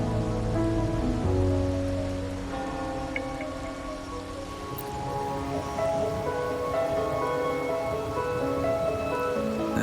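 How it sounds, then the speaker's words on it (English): Steady rain falls in a video game, an even hiss of drops on surfaces running throughout beneath layered ambient music, with no voices. "Or are you simply passing the time until the rain ends?"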